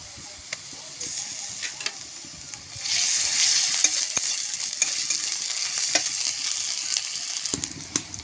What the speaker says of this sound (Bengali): এবার বেটে রাখা মশলাটাও ভেজে।